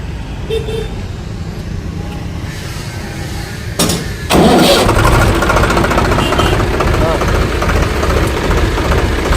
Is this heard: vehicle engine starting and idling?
yes